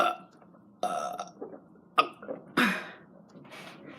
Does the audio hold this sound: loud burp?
yes